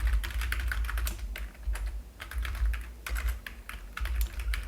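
Rapid clicking of keys on a computer keyboard, typed in quick bursts with short pauses, close and clear with no voices.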